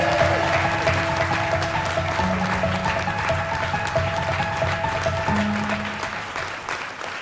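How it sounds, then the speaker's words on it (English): Sustained applause from an audience at the EF Hult Prize 2026 Global Finals in the UK, steady moderate clapping with a low musical tone humming underneath throughout. "Please join me in giving a huge round of applause to Clean Up"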